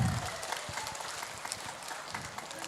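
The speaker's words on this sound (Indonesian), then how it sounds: "tepuk tangan yang luar biasa" Audience applause, a short burst of many hands clapping in a dense, steady patter that holds at moderate loudness for under three seconds, with a hint of crowd noise beneath it.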